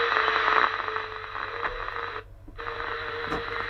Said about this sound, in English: There's someone playing music out there on the 19.